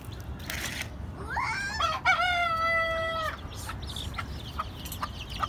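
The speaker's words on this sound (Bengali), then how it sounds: "বাচ্চা মুরগি, মা এবং বাচ্চারা।" Chickens, including a mother hen with her chicks, cluck and call nearby, one bird letting out a loud drawn-out crowing-like cry over soft background scratching and chatter.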